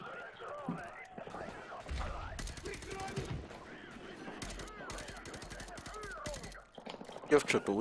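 Gunfire in a Call of Duty remastered game, rapid bursts of automatic shots and scattered single shots heard fairly faintly beneath excited players talking over them.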